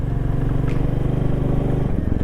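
A motorcycle engine drones steadily nearby on a ride to Matheran, a loud low rumble with a constant throb, shifting slightly near the end.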